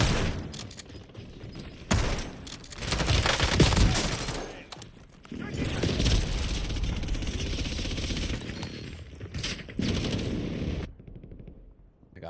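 Video game gunfire in a multiplayer shooter: bursts of rapid shots and a loud pistol pop crack in clusters across the clip, with game effects between volleys and a brief quiet stretch near the end.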